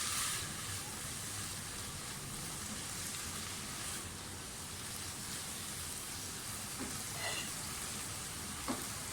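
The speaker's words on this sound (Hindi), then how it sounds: "थोड़ा सा फ्राई करें, थोड़ा सा, ज़्यादा नहीं।" Mixed vegetables, capsicum among them, fry in a pan for a spaghetti or macaroni dish. A soft, steady sizzle hisses evenly throughout, with a few faint stirring clicks near the end.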